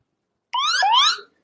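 A single short electronic emergency push notification alert tone, rising and warbling like a brief siren chirp, loud and close, lasting under a second.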